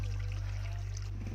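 Water pours and trickles steadily at an old communal washing place in barangay Sudlon, a close, continuous flow over a strong low hum with no voices.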